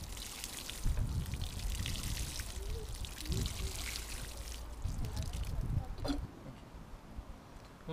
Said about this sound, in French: Et là, je peux compléter d'un arrosage.